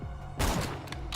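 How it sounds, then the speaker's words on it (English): Sniper rifle fires once in Borderlands 2, a sharp loud blast at about 0.4 seconds with a decaying rumbling tail over quiet game ambience, followed by fainter mechanical clicks. "Let me snipe some of these guys since we have a sniper rifle."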